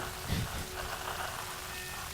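Steady rain from a downpour in the video game Tomb Raider (2013), a constant even hiss of falling water with a brief low thump early on, moderately loud.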